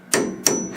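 Two crisp, ringing hammer blows land on a drift punch held against a leaf spring bolt on a Generation 1 Camaro, heard up close with a short pause between them and no voices.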